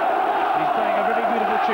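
A large football crowd at Ayresome Park in Middlesbrough roaring in a dense, continuous wall of cheering and shouting, loud and sustained.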